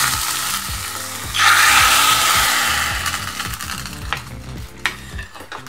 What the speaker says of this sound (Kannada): ಇವಾಗ ಒಗ್ಗರಣೆಯನ್ನ ಈ ತವರಿಗೆ ಹಾಕ್ಬೇಕು.